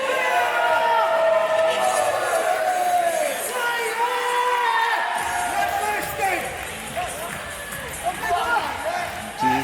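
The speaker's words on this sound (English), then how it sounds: "And this crowd, very happy." A British Wrestling Federation crowd cheering and whooping in the arena, a steady roar underneath a commentator talking throughout.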